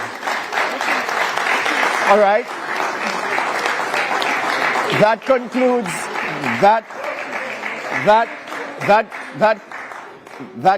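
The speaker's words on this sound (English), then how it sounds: "You can applaud." Audience applause rings out after a Jamaican economy debate between two political party teams, as the candidates meet in the middle to shake hands; sustained clapping fills the first five seconds, then someone speaks over fading claps.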